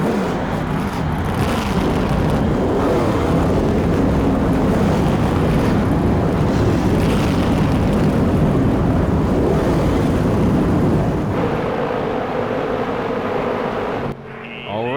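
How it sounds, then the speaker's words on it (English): Field of race cars firing up and idling together in the NASCAR Thunder 2003 video game, a loud, dense, continuous engine roar that holds for about fourteen seconds before cutting off abruptly. "Gentlemen, start your engines."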